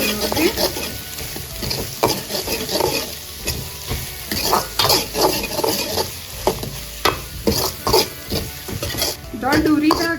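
A spatula scrapes and tosses chopped carrot, capsicum and beans in a hot pan for Singapore-style fried rice, with a steady sizzle and loud, rhythmic stirring strokes throughout.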